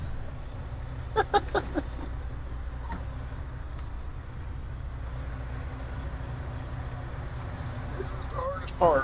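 A vehicle is driven with a steady low engine and road rumble throughout, a few clunks and clicks, and a person talking briefly over it.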